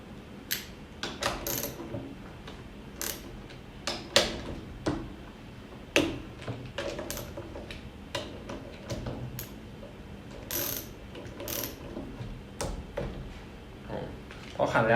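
A PF6000 electric nutrunner tightens fasteners, giving scattered sharp clicks and short ratcheting bursts at irregular intervals, fairly close but quiet, with someone talking throughout.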